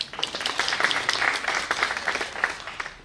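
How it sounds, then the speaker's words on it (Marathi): Students in a classroom lesson clap for themselves, a dense patter of many hands that runs steadily for the whole stretch, fairly close and lively, with no talk over it. "तुमच्यासाठी तुम्हीच टाळ्या वाजवा."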